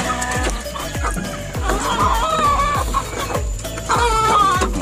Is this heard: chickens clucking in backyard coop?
yes